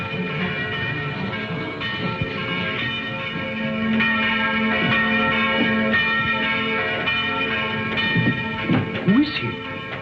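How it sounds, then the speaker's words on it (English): A bell rings steadily with sustained, overlapping tones under a dense background of other sound, and a voice speaks briefly near the end. "Did he ring the bell to say the gauntlet had come home?"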